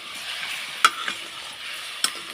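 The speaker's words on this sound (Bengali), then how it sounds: "এবার আমি এই মিষ্টি রসটা এর মধ্যে দিয়ে দিলাম। দিয়ে নেড়ে দেব।" Sweet syrup being stirred into a chutney in a pan, a faint hiss of simmering broken by two sharp scrapes of the spoon against the pan, no voices.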